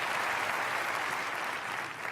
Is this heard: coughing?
no